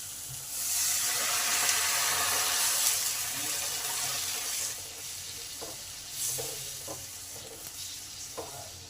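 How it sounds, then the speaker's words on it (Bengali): Water goes into a pan of cooked-down tomato masala for a gravy, a loud rushing, sizzling hiss at first that settles into softer bubbling and a few stirring clinks, with no voices. "মশলাটা আমার ভালোভাবে কষা হয়ে গেছে টমেটোটা কষা হয়ে গেছে এবারে জল ঢেলে দেবো"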